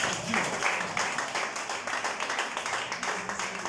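An audience clapping for a king, steady dense applause of many hands with a quick, slightly uneven patter, moderately loud and continuous throughout with no distinct talking.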